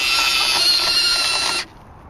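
An iRobot Looj gutter cleaning robot drives forward along a gutter, giving a close, steady whirring and ratcheting mechanical buzz that cuts off abruptly near the end.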